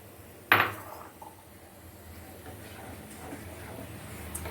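A spoon knocks once, sharply, against a pot of sheer kurma, a sweet milk and vermicelli dessert cooking on a home stove. A low, quiet background murmur follows.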